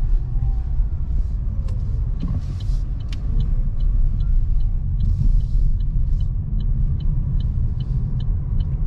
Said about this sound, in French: c'est troublant de conduire un véhicule qui fait pas trop de bruit